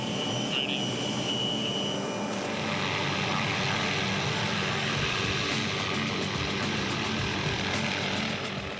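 Steady loud rotor and engine roar of a helicopter hovering close to a work platform near power lines, continuous and near throughout with no pauses.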